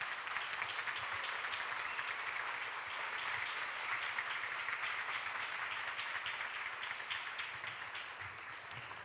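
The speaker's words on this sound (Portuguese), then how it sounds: "possamos aplaudir esses colaboradores tão queridos" Church congregation applauding its volunteers, steady broad clapping that fills the room and holds at an even level throughout before easing slightly at the end.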